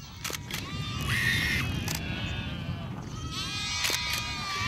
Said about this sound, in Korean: 아직 푸르지는 않지만 저 초원 위에 염소떼들이 그림처럼 논일고 있다